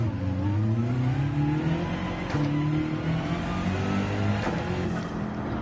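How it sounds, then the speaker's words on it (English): A race car engine in Gran Turismo 7, heard from cockpit view, drones steadily, its pitch shifting up and down through gear changes with a high whine on top. "It does sound great, this car in the old cockpit."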